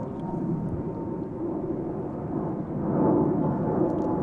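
Boeing 777 jet departing Amsterdam Schiphol Airport, a distant, steady low rumbling roar of jet engines that swells slightly louder toward the end, with no voices.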